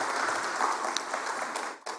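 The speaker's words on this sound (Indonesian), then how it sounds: "Tepuk tangan buat kita semuanya." An audience at the opening of the Capital Market Summit & Expo 2023 applauds. The clapping is a steady wash at moderate loudness, with a brief dip near the end before it picks back up.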